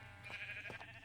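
A red sheep bleating in the Minecraft video game, a faint, steady wavering bleat in a quiet farm setting, heard alone without talk.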